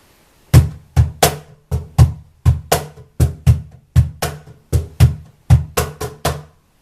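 A steady cajón blues groove: deep bass thumps alternating with sharp slaps, about two hits per second, close and crisp with no voices.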